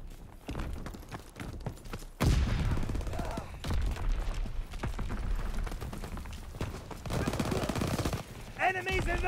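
Call of Duty WW2 game audio of MP40 and other gunfire, with rapid bursts and heavy volleys that run almost continuously and stay loud, mixed with other battle noise.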